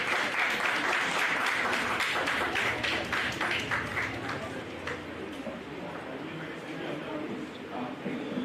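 An audience in a medical college anatomy lecture hall gives a warm round of applause, many hands clapping loudly at first, then thinning and fading into quieter scattered claps and murmur.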